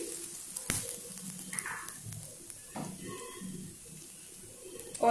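Bay leaf and asafoetida sizzle in hot oil with cumin for a Rajasthani masala tinda, a steady soft frying hiss with small crackles and a brief clink of a utensil, close and moderately quiet.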